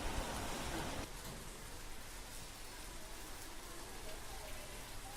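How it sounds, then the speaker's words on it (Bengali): Steady rain falls in the Sundarbans mangrove forest in the evening, a continuous broadband hiss that is heavier for the first second and then settles into an even, moderate patter with no voices. "আবার বৃষ্টি শুরু হয়েছে।"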